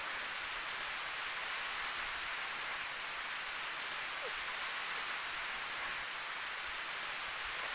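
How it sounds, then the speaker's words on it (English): Steady hiss of rainfall in the video game Corpse Party, broad and even throughout, with no voices and no clear individual drops standing out. "And it's raining, that's lovely."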